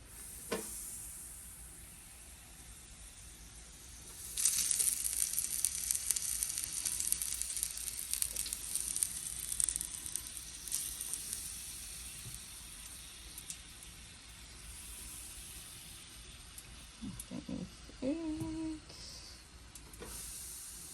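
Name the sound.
buffalo chicken sizzling in deep fryer grease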